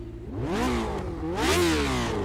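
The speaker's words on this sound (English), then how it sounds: "That engine sounds fantastic, by the way." A simulated race car engine in iRacing at Monza revs up and falls back twice, its loud, close harmonic roar sweeping up and down with no voices.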